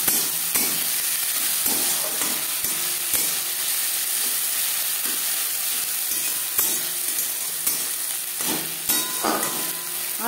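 Carrots fry with spices in a little oil for a spicy semolina dish, giving a steady close sizzle with periodic scraping and stirring clicks from a spatula against the pan and no voices.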